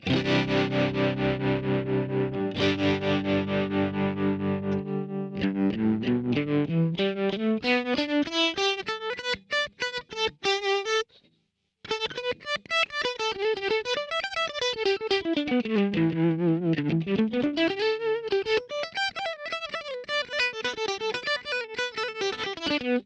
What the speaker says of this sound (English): now the tremolo effect will have intensified